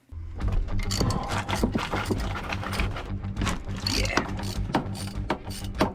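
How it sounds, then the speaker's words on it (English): A ratchet lever on an old, long-neglected boat is cranked by hand, giving rapid, loud metallic clicks and clunks in an uneven rhythm throughout, close by, with no talking. "You put your legs in it and you just crank it and it would click in and click in."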